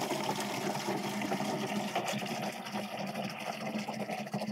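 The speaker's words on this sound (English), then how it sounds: "Let us drain that and see if we get any drips." Water drains from a full campervan sink in a steady, close gurgling rush with a watery churn and a low mechanical hum beneath, continuing without pause.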